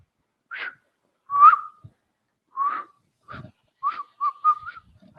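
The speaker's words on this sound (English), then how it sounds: "I am not very good at whistling." Someone whistles a halting, uneven tune alone, with short wavering notes and gaps between them, the last few coming in quicker bursts.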